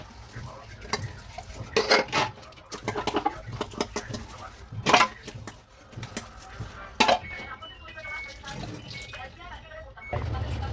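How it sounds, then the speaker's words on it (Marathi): Dishes being scrubbed and rinsed at a home kitchen counter: irregular clinks and clatters of pots, plates and cutlery with bursts of running water, fairly close, while birds call faintly in the background. "आणि त्याच्यानंतर आता भांडी घासत आहे"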